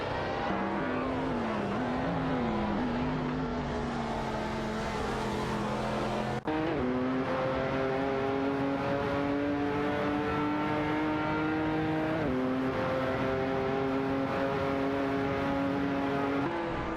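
Race car engines from an AI racing video game, including a Chevrolet Camaro and McLaren F1 GT, drone and rev continuously with shifting pitch as cars accelerate and change gears, loud and steady without talk.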